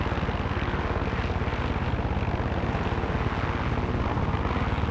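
Helicopter flight in the Far Cry 6 video game: a steady, loud rotor and engine drone with a continuous rhythmic chop, holding at an even level with no speech over it.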